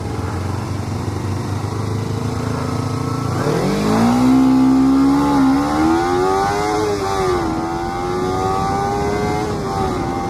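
Kawasaki Ninja 250 and Ninja 300 motorcycles race side by side, engines rising from idle into a loud, close, climbing rev that keeps pulling through upshifts with wavering pitch.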